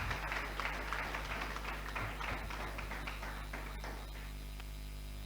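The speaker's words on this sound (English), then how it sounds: "A round of applause one more time." Moderate, somewhat muffled applause from an audience at a community session with the Ghana Police Service liaison office, heard over a constant low hum, fading after about four seconds.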